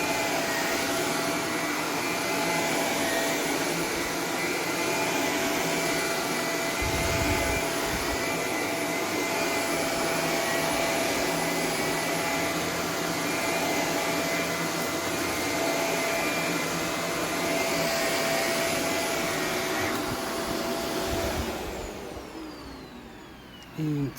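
A Shark Apex Zero-M AZ1002 stick vacuum cleaner runs with a steady, loud motor whine and airflow roar throughout, holding a constant pitch before cutting off near the end.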